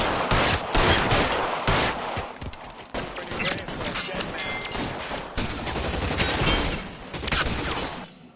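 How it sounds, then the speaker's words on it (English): Dense, rapid gunfire from a PS4 video game, with bursts of automatic fire and overlapping shots forming a loud, continuous fusillade with brief pauses throughout. "let's shoot the bad guys"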